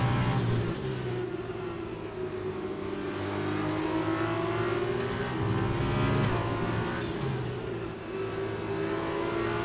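A Formula 2 race car in F1 2020 roars steadily at high revs, the engine note swelling and easing slightly through corners, loud and continuous with no talking.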